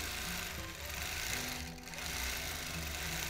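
A vintage sewing machine runs steadily and close, lock stitching back and forth over the last few existing stitches in one continuous loud burst with a slight dip midway.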